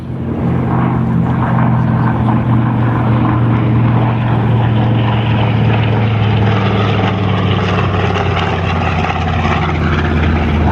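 A loud, continuous droning roar of a Wright R2600 1,900-horsepower radial piston engine on an aircraft at an air show, steady and close, with a deep throbbing rumble throughout.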